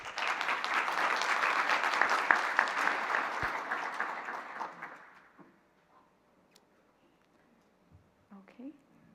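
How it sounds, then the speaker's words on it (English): An audience at a lecture on earthquakes and Jesuit seismology claps for a student speaker, sustained applause that fades out after about five seconds, leaving quiet room noise and small rustles. "please offer her a round of applause."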